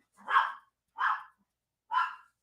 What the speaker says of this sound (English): puppies, don't go barking